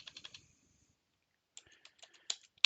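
Typing on a computer keyboard, a quick burst of close key clicks, a short pause, then another scattered run of taps with a louder final keystroke.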